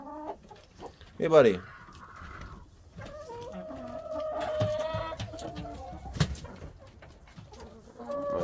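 A naked neck rooster and a hen on a snowy farm cluck and squawk close by in short, irregular bursts, one sharp loud call early on, with someone briefly speaking.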